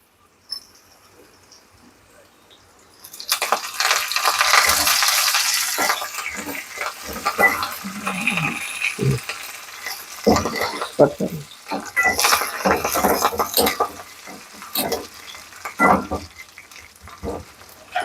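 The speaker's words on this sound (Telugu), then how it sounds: "ఇది కూడా వేగుతూ ఉంటుందండి ఉల్లిపాయ." Onions and curry leaves hit hot oil in a pan, bursting into a loud crackling sizzle after a quiet start, then settling into uneven spitting and popping with some stirring.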